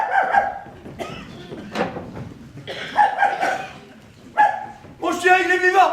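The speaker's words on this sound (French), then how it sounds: "Mon chien, il est vivant!" Dog barks and yips in a stage pastorale performance, several close bursts spread across the moment, mixed with loud theatrical speech.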